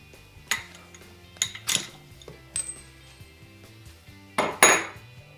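Metal clinks and taps ring out as the last bolt comes off a Porsche 911 CV joint: several sharp, close clanks spaced irregularly, with a louder cluster near the end.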